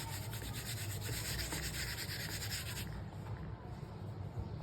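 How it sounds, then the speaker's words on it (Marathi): A rolling pin presses out a thin pastry sheet for baklava, giving a steady, close scraping rub that keeps going throughout and then eases somewhat toward the end. "मी आता इथे हे शेवटचं असं लाटून घेणार आहे."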